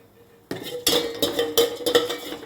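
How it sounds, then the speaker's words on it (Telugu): Fenugreek seeds frying in a pan for vegetable pulusu, quiet at first, then a spoon scraping and clinking against the metal in several stirring strokes over a soft sizzle. "ఫెనుగ్రీక్ సీడ్స్ వేసి వేయించుకోవాలి."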